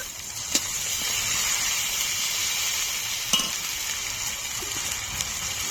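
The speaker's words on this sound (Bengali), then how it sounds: "এবার দিয়ে দেব আদা বাটা রসুন বাটা জিরে বাটা শুকনো লঙ্কা বাটা" Ginger, garlic, cumin and dried chilli pastes hit hot oil with softened onion and tomato in a pan, giving a steady, close sizzle with a few faint clinks.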